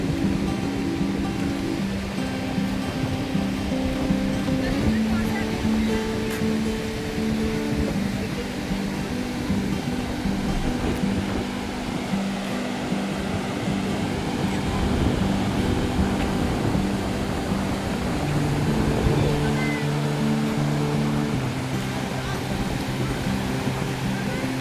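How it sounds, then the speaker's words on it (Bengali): Sea waves at Digha Mohona wash and splash against a boulder-lined shore in a constant loud roar of surf, with someone speaking over the water throughout. "এখানে জলের ঝাপটাগুলো অনেকটা চলে আসে, দেখো দেখাচ্ছি।"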